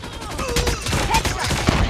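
Sustained automatic fire from an RPD light machine gun in Call of Duty Mobile ranked play, a dense continuous burst of loud, close shots layered with game effects.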